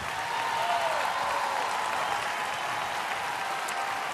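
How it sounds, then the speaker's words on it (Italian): An audience breaks into sustained, even applause for a singer, a dense wash of clapping at a constant level, with a faint whistle-like tone and a voice briefly audible underneath. "questo applauso è tutto solo per te"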